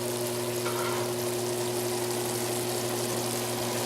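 Fresh garlic hits a hot pan and sizzles with a steady, dense frying hiss that stays even throughout over a faint low hum, with no talking.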